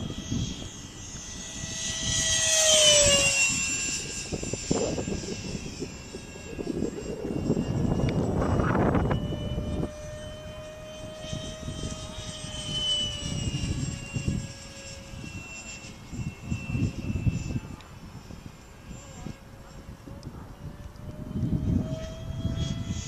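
An RC model F-16 jet makes easy half-throttle flyby passes, its turbine whine sweeping past loudly, then fading and returning in passes over outdoor wind noise.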